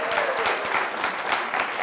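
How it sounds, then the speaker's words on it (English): An audience at Portland Community College claps in a short, dense round of applause, steady and fairly close, with no one speaking over it. "Give yourselves a round of applause."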